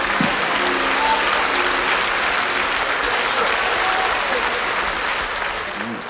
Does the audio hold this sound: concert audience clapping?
yes